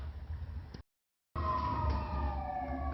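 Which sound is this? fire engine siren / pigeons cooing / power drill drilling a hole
fire engine siren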